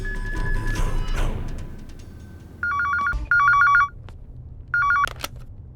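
A telephone rings in short bursts of repeated electronic trills, three separate rings spaced across the moment. Louder background noise comes before them, and no one speaks.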